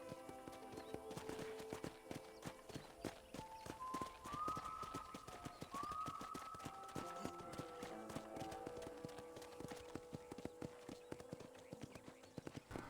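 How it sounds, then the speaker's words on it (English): Horse hooves clip-clopping in the video game Red Dead Redemption, a steady quick rhythm of hoof clops at moderate distance, with a brief whinny-like tone partway through and no talking. "I picked out a fine horse for you."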